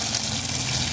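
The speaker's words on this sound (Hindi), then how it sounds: "अब चाप को हम फ्राई करते हैं।" Soya chaap fries in hot oil in a kadhai, giving a steady, dense sizzling hiss that holds at one level throughout with no talk.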